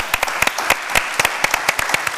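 Lively applause for a guest on an Italian music program: a steady, fairly loud patter of many hands clapping close by, with no talking over it.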